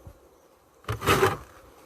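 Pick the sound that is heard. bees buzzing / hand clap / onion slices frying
bees buzzing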